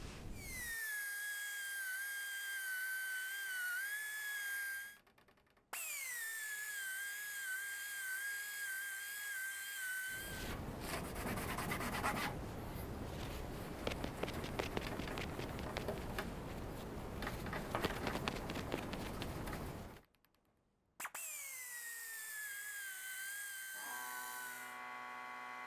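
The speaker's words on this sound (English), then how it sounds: "I'm just going to go ahead and buff this panel out" A buffer or polisher works a rust-covered panel on a vintage auto parts cabinet, giving a loud, sustained mid-clip roar with a steady motor whine in the sections before and after, broken by short pauses.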